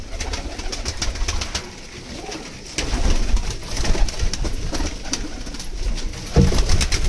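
Pigeons, including large cumin-coloured birds with red legs kept for sale in India, coo repeatedly in soft low calls over a background of bird chirps and scattered knocks.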